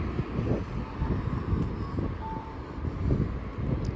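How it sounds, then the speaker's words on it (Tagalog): Strong wind buffets the microphone outdoors in a steady, loud low roar with gusty surges, no voices. "Oh shit, ang lakas ng hangin."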